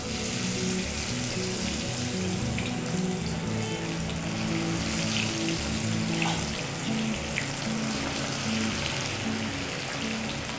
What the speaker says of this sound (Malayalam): ഇനി നമുക്ക് പുരട്ടി വച്ചേക്കുന്ന ഈ മീൻ കുറേശ്ശെ ഇട്ട് വറുത്ത് കോരാം.